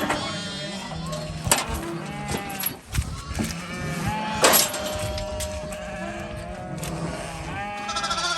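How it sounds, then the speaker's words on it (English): Sheep and young lambs bleating repeatedly in a farm pen during spring vaccination for CD&T, several overlapping calls near and far over steady barnyard noise. "vaccinating our sheep for CD&T"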